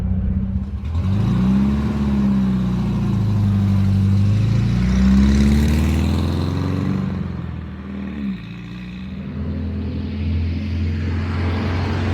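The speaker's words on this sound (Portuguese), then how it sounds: "Dei uma acelerada aqui" A car engine revs up and down in a few swells, a close, loud mechanical roar that eases off and settles to a steady idle.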